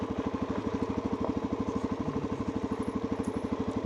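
A motorcycle engine putters at a low idle with the clutch in on a hill descent, a steady close rhythmic thumping that holds even throughout, with no voices.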